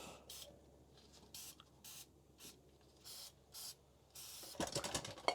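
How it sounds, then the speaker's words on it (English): Short hissing bursts of aerosol brake cleaner spray on a RAM 1500 brake system repeat in quick pulses, close by, followed by a louder rattling, scraping clatter at the end. "spray some brake cleaner on it"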